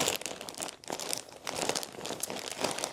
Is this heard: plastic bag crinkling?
yes